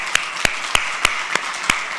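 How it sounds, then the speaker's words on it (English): Sparse, evenly spaced single hand claps ring out at an awards ceremony honoring students and alumni, about six sharp claps in two seconds over a quiet room. "Let's get a big round of applause for all of our students and the award winners this evening."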